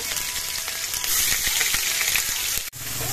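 Ginger, garlic and onion paste fries in hot oil with cumin seeds in a pan, giving a loud, continuous, dense sizzle with faint stirring scrapes and a brief dip near the end.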